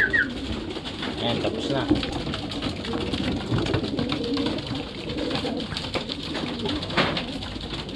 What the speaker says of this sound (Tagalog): tapos na kumain yung mga ibon